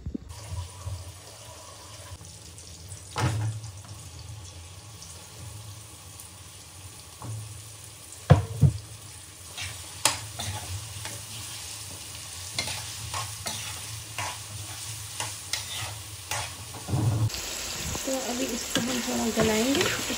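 Onions, tomatoes and cumin cook in a pan while a spoon stirs and scrapes at intervals. A soft, steady sizzle runs underneath, and the texture changes near the end.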